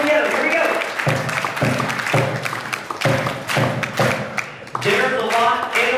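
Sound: audience clapping three times together

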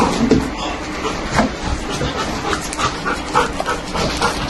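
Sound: police sniffer dog barking and whimpering

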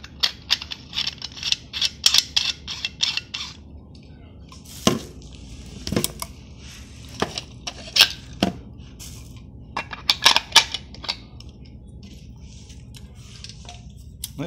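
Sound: plastic paint cup being screwed onto SATA spray gun

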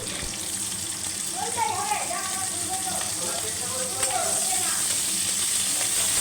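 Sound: diced onion frying in hot mustard oil

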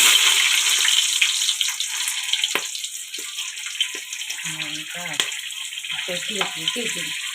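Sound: green chillies frying in oil

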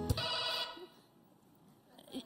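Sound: telephone ringing

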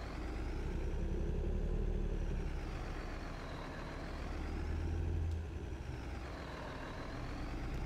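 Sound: RV engine starting, from a video game

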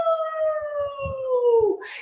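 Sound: voice imitating a wolf howl

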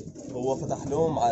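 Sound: pigeons in a loft

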